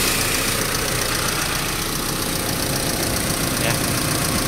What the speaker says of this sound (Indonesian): kita dengarkan suara mesinnya saja